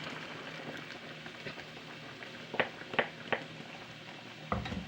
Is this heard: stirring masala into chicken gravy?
yes